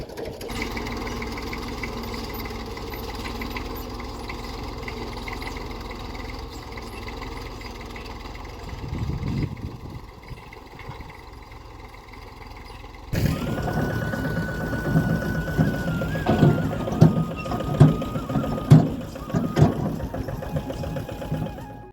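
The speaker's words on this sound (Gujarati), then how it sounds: "ધોરિયો એટલે ટ્રેક્ટર લઈને આવ્યા છે ધોરિયો નાખવાનો છે" A tractor engine runs at a farm, brought in to cut an irrigation channel, with a steady mechanical drone that becomes louder and rougher about halfway through, with rattling on top.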